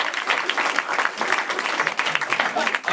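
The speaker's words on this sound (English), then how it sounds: "Let's give him another round of applause." A studio audience at a live game show event breaks into dense, steady applause that fills the whole stretch at a consistent, fairly loud level, with no pauses.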